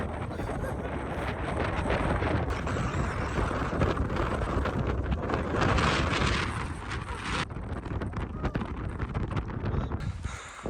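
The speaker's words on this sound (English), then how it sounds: "That section was crazy windy." Strong wind on a mountain ridge roars and buffets the microphone in heavy gusts, loud and continuous, easing slightly toward the end.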